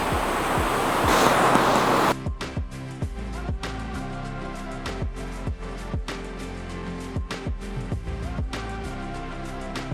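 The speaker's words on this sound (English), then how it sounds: "I don't think I've ever been that close to a waterfall in my life." Lower Mashel Falls roaring up close, a dense, loud rush of falling water for about two seconds before cutting abruptly to a series of sharp, rhythmic knocks and clicks.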